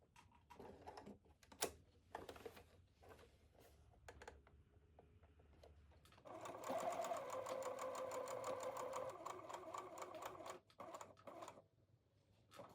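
A sewing machine topstitches a dart on a fitted skirt, running steadily for several seconds after scattered clicks and fabric handling, then stopping briefly and restarting faintly.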